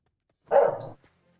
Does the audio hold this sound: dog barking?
yes